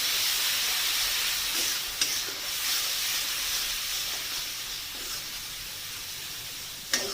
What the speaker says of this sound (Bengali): দিয়ে এবার মশলাটাকে কষাবো।